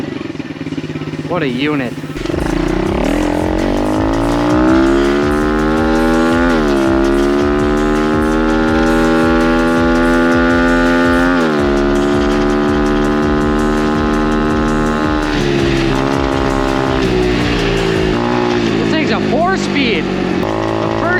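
An old pit bike that had sat unused for years kicks over and runs with a loud, raw engine that revs and drops repeatedly through the ride. A short spoken remark comes in near the end.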